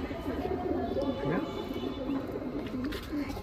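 Madrasi pigeons in a home loft give repeated soft, throaty coos in an uneven rhythm, close by, with people talking faintly underneath.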